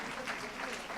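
Brief burst of audience applause at an international public relations conference, dense steady clapping from a seated crowd.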